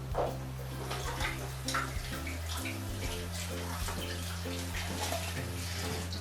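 Tap water runs in a steady, continuous stream over a frozen jug of lemonade held under the faucet, close by and moderately loud, with a low hum beneath the splashing.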